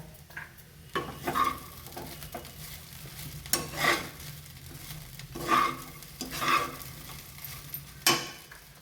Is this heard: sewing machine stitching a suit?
no